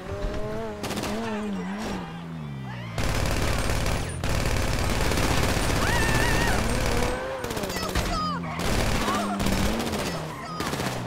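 Sustained bursts of automatic gunfire in GTA V Online during a drive-by shooting, loud and rapid in long runs broken by short pauses, with car engine sounds and voices talking underneath.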